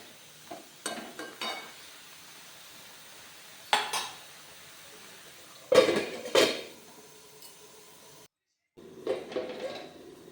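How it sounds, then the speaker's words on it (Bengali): Metal lid lifted off a cooking pot of simmering bottle gourd, with a few sharp clinks and clatters of metal on metal spaced out over a quiet kitchen background. "এদিকে দেখতে পাচ্ছ ঢাকনাটা খুললাম"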